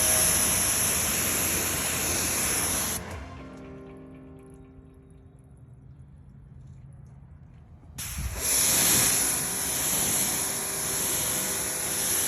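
Water rinsing a graphene-coated car sprays hard with a loud, steady hiss, stops for several seconds, then rushes back on at full strength.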